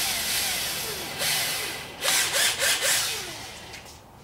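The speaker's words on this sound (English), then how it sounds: "Just use a 1/16 drill bit." A small power drill with a 1/16 bit bores a starter hole into wood, whirring in short spurts that ramp up and down, close and loud, with brief pauses between bursts.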